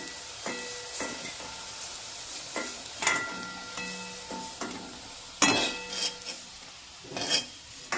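Drumstick flower fritters fry in a pan over a low gas flame, a soft continuous sizzle punctuated by several sharp scraping and clinking utensil strokes against the pan, close and fairly quiet.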